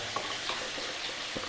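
Potatoes frying in a pan with salt, a steady soft sizzle throughout with faint scraping stirs, no talk.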